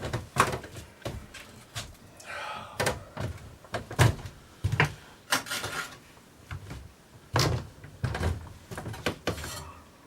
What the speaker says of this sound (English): Get the wood in and get the door closed.